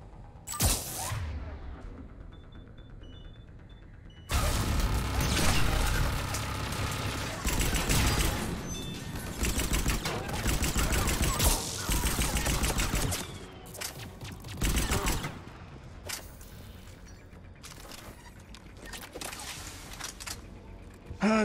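Automated turret fire in Mass Effect 3 during a Prothean-themed mission, loud sustained volleys of shots in long bursts separated by short pauses, with mechanical clatter between them.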